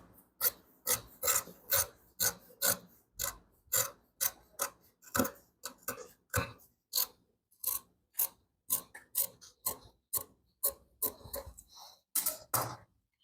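Scissors trim excess shirt-collar fabric in a quiet room, making a steady run of short, crisp snips and rasps one after another at close range. No one speaks.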